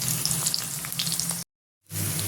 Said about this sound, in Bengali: দেখেন কাঁচামরিচ আর পেঁয়াজ তেলের মধ্যে ভেজে নিচ্ছি